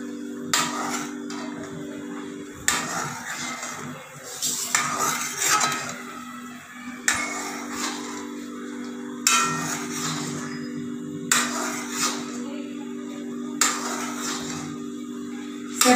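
Millet raab (bajre ki raab) being stirred in a cooking pot, heard as repeated close scraping and clinking bursts of a utensil against metal in a steady rhythm.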